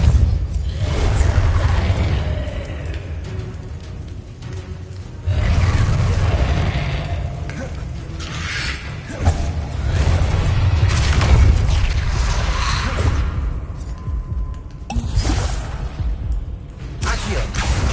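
Repeated spell blasts from the Repulsor charm in Hogwarts Legacy, loud booming bursts with whooshing tails and rumbling low end, several impacts spread across the stretch, no talk over them.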